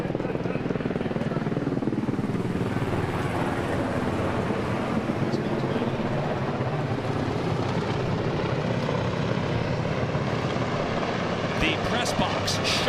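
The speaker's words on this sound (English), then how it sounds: "The press box shuddered as the Coast Guard helicopter flew overhead" A bright orange and white Coast Guard helicopter passes low over a Cape Cod League baseball game's press box, its loud, steady rotor roar filling the whole stretch alongside voices talking.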